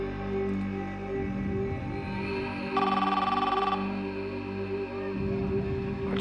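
A telephone rings in a tense police-standoff scene from a TV crime drama, a short burst of electronic ringing rising over a low, steady musical drone.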